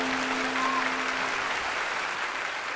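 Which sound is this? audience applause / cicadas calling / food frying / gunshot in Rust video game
audience applause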